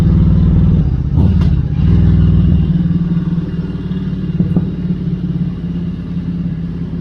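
A motorcycle with 57,000 km on it rumbles steadily while being ridden through the Auvergne, with a dense low engine drone, a brief throttle swell early on and wind noise throughout, close and loud.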